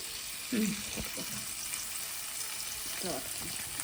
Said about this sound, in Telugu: డీప్ ఫ్రై చేయడానికని వేస్తా ఉన్నా